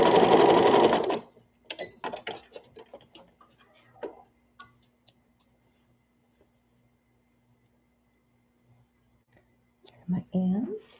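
A sewing machine stitches a toddler peasant dress, backstitching past the starting point: one loud, close burst of whirring stitches at the start, then scattered quiet ticks and clicks, with a brief machine run again near the end.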